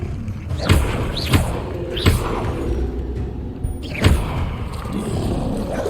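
In Hogwarts Legacy on PS5, the Expelliarmus disarming spell is cast four times, each a swooping whoosh ending in a solid thud, spaced irregularly over a low game ambience.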